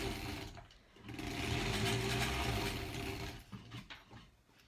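A quilt block passes through a sewing machine that hums steadily, with a gear-like whir close by for most of the stretch before it tapers off into scattered faint clicks.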